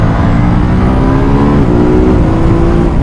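A 2021 Ducati Monster motorcycle engine, rated at 111 horsepower with electronic throttle, holds a loud, close, sustained rev with a slight rise in pitch partway through, and no talk over it.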